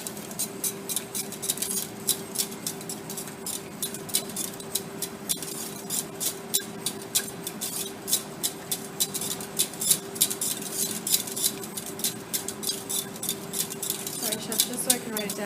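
A whisk beats a beurre blanc emulsion in a metal pan, a quick steady rhythm of light metallic clicks and scrapes repeating close up, with a faint electrical hum underneath.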